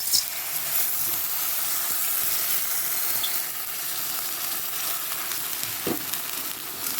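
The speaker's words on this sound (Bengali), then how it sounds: "দেখো এবার এর মধ্যে একটু জল দিয়ে দেবো।" Arhar dal in a hot pan with a little water added, giving a steady sizzling hiss and bubbling with a brief sharper spit near the end, no voices.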